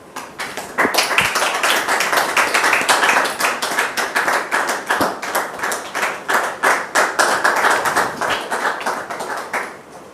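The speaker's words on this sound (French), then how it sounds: "Recevons maintenant Dame Doriane sous vos applaudissements" An audience claps to welcome Dame Doriane onstage, the clapping falling into a loud, rhythmic, pulsing beat of hands that keeps time for about ten seconds.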